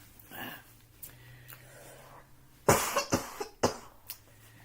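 A person coughs several times in quick succession, close and fairly loud, after a quieter stretch of breathing and throat sounds.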